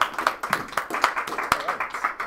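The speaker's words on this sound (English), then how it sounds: "Let's give a big round of applause to Kjell-Ove Alskog from Linkit." Scattered clapping from a small audience at a startup pitch event, a few sharp hand claps standing out over a light, uneven patter.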